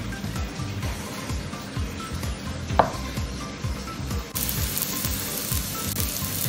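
Shallots and garlic dropped into a hot pan for ikan cengcuan, sizzling steadily up close with scraping stir strokes and a sharp metallic clink partway through, the frying growing a little louder near the end.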